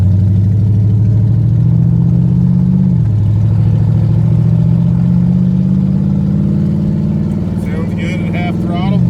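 Chevrolet C10 pickup with a swapped small-block V8 at half throttle on the road, a loud, steady low engine drone that dips briefly, climbs again and holds, with a voice speaking near the end.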